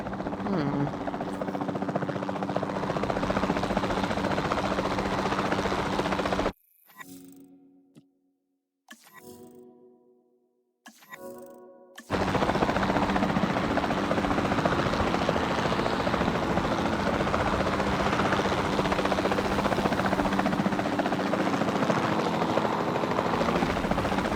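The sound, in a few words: capture team helicopter flying in Jurassic World Evolution 2 video game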